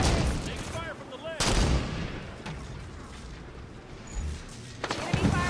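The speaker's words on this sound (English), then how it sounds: "Heavy firing from the light post!" Gunfire in the Halo 5 video game during a fight against Prometheans, with sharp shots and bursts over a dense battle din, loud and continuous, with game voices calling out over it.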